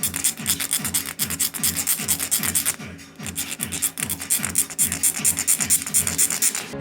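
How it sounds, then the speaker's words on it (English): Small miniature hinge pieces are sanded by hand in steady, rhythmic back-and-forth rasping strokes, close and continuous with a brief pause midway; no talking. "We split them in half and sand them carefully."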